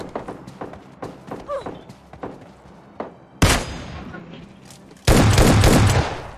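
Gunfire from a K9 pistol in the PUBG Lite video game: a string of quick sharp shots, then two loud blasts with short bursts of rapid fire, heard under and between someone talking.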